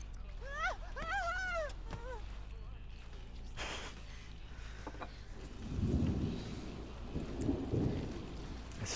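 Thunderstorm weather in The Sims 3, with steady rain hissing throughout, a sharp crack near the middle and deeper rumbling thunder rolling in later, alongside brief whistling game tones at the start.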